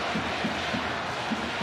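A baseball crowd at Yokohama Stadium during a DeNA BayStars rally, a dense, steady roar of cheering and applause with rhythmic chant-like swells, loud and continuous.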